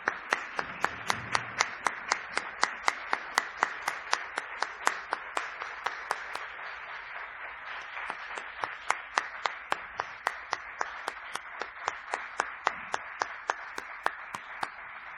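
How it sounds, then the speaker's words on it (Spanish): Audience at an anniversary event for the Nocturnal Adoration group in Santander clapping in a steady, rhythmic unison beat, with sharp regular claps over a bed of scattered applause lasting the whole stretch. "que le diéramos todos un aplauso"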